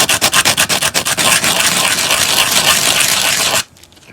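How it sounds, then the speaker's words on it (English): Coarse sandpaper is worked over a plastic protocol droid hand, first in quick rhythmic rasping strokes, then in continuous loud scratchy rubbing up close that stops abruptly near the end. "just sand the plastic down to make it smooth"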